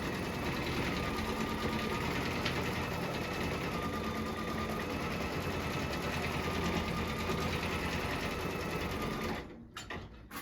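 A sewing machine runs continuously at a steady fast pace for about nine seconds, stitching a fabric circle for a door hanger, then stops abruptly, leaving a brief quiet tail.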